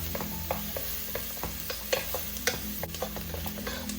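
Onions sweating with salt in a pan for Filipino spaghetti sauce, a soft sizzle broken by repeated scraping and clicking as a utensil stirs them, close and without talk.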